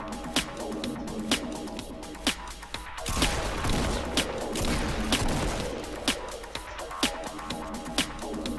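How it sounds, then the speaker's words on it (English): Shotgun blasts in the video game Fortnite sound as a string of sharp, loud cracks spaced a second or so apart, over a dense, noisy din of game action. "Get ready for a shotgun fight."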